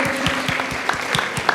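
A congregation applauds during a Thanksgiving First Holy Mass in church: brisk, even clapping with a clear rhythmic beat throughout, moderately loud and close, with a faint voice underneath.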